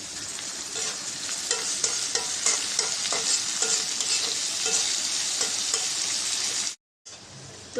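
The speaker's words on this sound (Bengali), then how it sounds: "তো পেঁয়াজটা ভেজে নিয়েছি" Onions and green chillies fry in oil in a wok. The close, steady sizzle carries the scrape of stirring throughout, then cuts out briefly near the end before resuming faintly.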